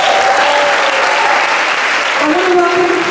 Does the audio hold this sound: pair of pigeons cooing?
no